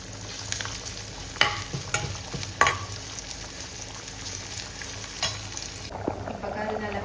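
Chopped onion sizzles in hot oil in a pan, a steady frying hiss with a few sharp clinks and scrapes of a utensil stirring, ending in a softer bubbling sizzle.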